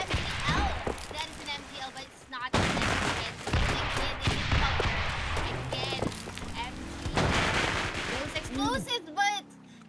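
Rapid gunfire and explosive blasts from an MGL grenade launcher and other weapons in the game Rules of Survival, loud dense bursts through most of the stretch, with dropouts and whooshing effects near the end.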